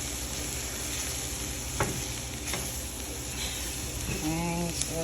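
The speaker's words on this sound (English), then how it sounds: "I'm going to stir that around a little bit" Flour stirred into a sizzling pan for scalloped potatoes gives a soft frying crackle with a few scraping spoon strokes, fairly quiet and steady.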